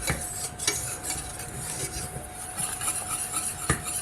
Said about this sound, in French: Vous pouvez la mélanger à la spatule en bois aussi